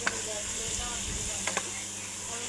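Meat sizzles steadily while being sautéed (kosha) in a pan, a continuous close hiss with a few soft clicks of stirring throughout.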